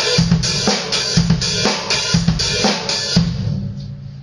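A drum kit stick-trick groove combines snare, hi-hat and bass drum in a fast, repeating pattern, played loud and close without any talking.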